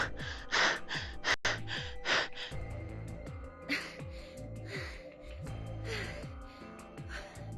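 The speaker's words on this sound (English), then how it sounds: "we can just listen to her panting" Female character in Zero Escape: Virtue's Last Reward panting heavily, a string of quick rhythmic breaths and gasps, close and prominent over quiet game music.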